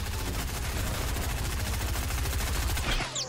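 Gunshots in a Fortnite Star Wars challenge match ring out as a dense, loud stream of rapid bursts with no break. The shots are close and fill the whole stretch with no talk over them.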